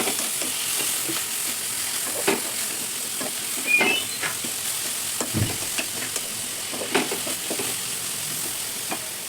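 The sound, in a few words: mint and coriander sautéing and stirred in pan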